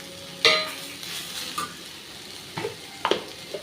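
Cooked white rice being mixed with salt in a pan for cucumber rice, a few scattered scrapes and soft clinks of a spoon at irregular intervals, close and fairly quiet, with no talking.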